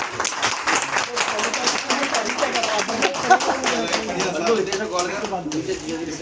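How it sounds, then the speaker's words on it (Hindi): A crowd claps loudly and continuously for Kavita madam at a father's retirement gathering, a dense, steady wash of hand claps with voices talking underneath throughout. "कविता मैडम की पहले जोरदार तालियां होनी चाहिए। बहुत जोरदार।"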